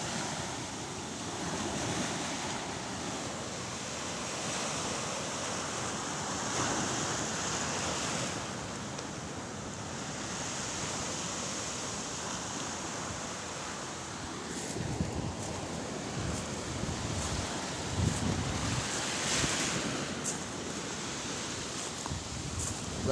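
Ocean waves washing onto a beach, a steady broad roar of surf with wind noise on the microphone and a few louder breaking swells near the end, no talking.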